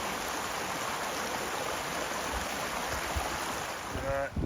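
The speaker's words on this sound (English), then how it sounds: "Lots of water rushing." Water rushes down a mountain stream and waterfall on a remote Scottish hiking trail, a steady broadband roar that fills the clip at moderate loudness, with a faint brief knock near the end.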